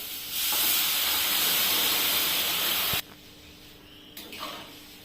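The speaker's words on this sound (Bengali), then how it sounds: "আমি ভালো করে কষে নিচ্ছি।" Boiled potatoes and peas are sautéed in a hot pan for a Bengali matar dish, giving a loud, steady hiss for about three seconds. It then drops abruptly to a quiet background with a brief faint scrape near the end.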